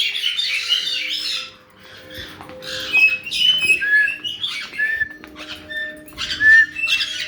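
Pet birds in an indoor bird room whistle and squawk in a busy overlapping mix, with sharp rising whistles and harsh calls near and far, plus light rustling and clatter.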